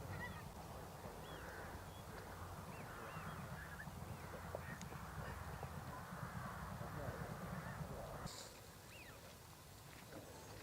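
Several geese or similar waterfowl honk and call near a riverside path in the Norfolk marshes, with a steady wash of wind and water beneath and a voice speaking over part of it.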